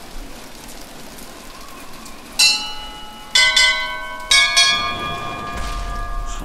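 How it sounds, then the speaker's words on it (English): Bells chiming in the video game Bioshock Infinite, three separate ringing strikes with long sustained tones over a steady rain-like background hiss. "Bells."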